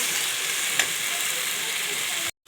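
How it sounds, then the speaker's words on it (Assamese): Pork fries with spices in hot oil on a high gas flame, a steady loud sizzle filling the space with one brief crackle partway through, close by and with no voices. "মছলাখিনিৰে সৈতে অকণমান সময় পৰ্কখিনি ভাজি ল'ম"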